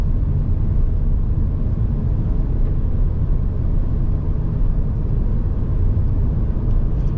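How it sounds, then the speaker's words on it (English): Inside a 2023 Hyundai Venue SEL on the road, a constant low rumble of tire roar and wind noise fills the cabin, steady and fairly loud with no talking. "you're going to get tire noise, you're going to get wind noise, you're going to get noises from the outside of the vehicle"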